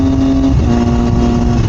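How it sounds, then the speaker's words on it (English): A 2021 Triumph Daytona 765 Moto2 three-cylinder sportbike engine drones loudly and steadily under throttle from close range, its tone stepping slightly as the revs shift. "See how I'm giving it throttle?"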